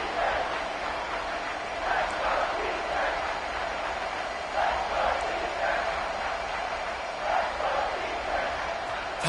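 A football stadium crowd roars in the fourth quarter, a broad, sustained wash of noise that swells in waves throughout.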